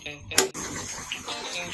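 Water is poured into chicken karahi cooking in a pan, a brief splashing pour followed by steady sizzling and bubbling close by, with speech over it.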